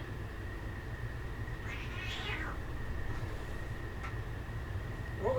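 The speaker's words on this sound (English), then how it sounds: "Cat fight." Cats fight outdoors, yowling and meowing in a brief wavering cry with a rising call at the end, fairly distant over a steady low rumbling background.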